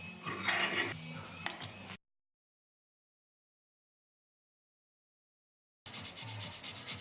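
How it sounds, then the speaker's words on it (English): Sandpaper rubs by hand over a walnut sculpture in a workshop, close and steady for about two seconds, then silence before the scratchy strokes return briefly near the end. "Finished sanding that one."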